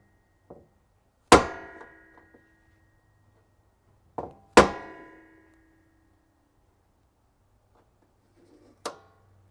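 Hammer blows knocking a knockout tab out of a metal electrical box while installing a 240v home EV charger: three sharp metallic strikes spaced apart, each with a short ringing decay, with faint softer taps between them.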